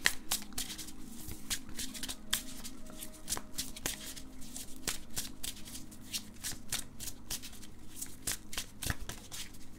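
A tarot deck is shuffled by hand on a table, giving dense, steady riffling and slapping card sounds with sharp, repeated snaps, up close and continuous with no talking.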